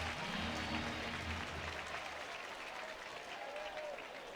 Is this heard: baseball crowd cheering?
yes